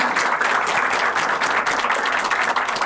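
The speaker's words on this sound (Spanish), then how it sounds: "Entonces les pido un fuerte aplauso para nuestra mesa" An audience at a book presentation gives the panel sustained applause, a dense, even wash of many clapping hands that stays loud from start to finish.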